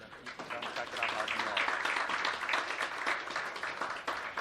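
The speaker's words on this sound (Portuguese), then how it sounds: "nós gostaríamos de recebê-lo em nome de todos com uma salva de palmas." Audience applause welcoming a speaker at a Brazilian public hearing in Brasília, a dense, steady wash of clapping that holds at an even level throughout, with no talk over it.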